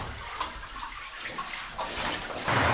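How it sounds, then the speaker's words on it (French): A thin trickle of water running through an underground river in a cave in Sardinia's Supramonte, a soft, close, continuous splashing and gurgling with no voices over it. "regarde, c'est un filet d'eau."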